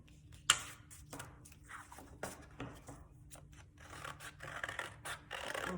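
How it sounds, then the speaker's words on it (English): Scissors snip through three stacked paper egg shapes with short, crisp cuts and rustling scrapes in an irregular rhythm, close and fairly quiet. "I'm actually going to cut them out all at one time."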